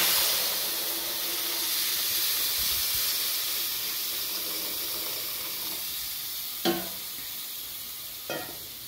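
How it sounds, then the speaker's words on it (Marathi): Coconut milk in a pan of hot roasted semolina sizzles loudly and steadily, with two brief clattering stirs near the end and no talk. "यामध्ये आपण आता हे दूध घालणार आहोत।"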